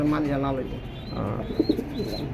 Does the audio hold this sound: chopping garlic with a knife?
no